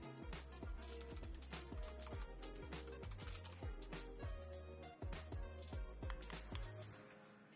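Steady rapid typing on a computer keyboard, many close, crisp key clicks running continuously over a constant backing of loud music.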